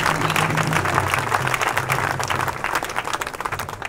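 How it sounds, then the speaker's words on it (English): An outdoor crowd at an Occupy Santa Rosa rally claps and cheers for a speaker, with loud, dense applause over a low murmur of voices that thins slightly toward the end. "Please give him a round of applause."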